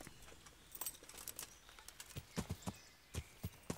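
Light, irregular hoof clops from a single horse in Kingdom Come: Deliverance, soft and fairly close, scattered taps without a steady gait rhythm over quiet background.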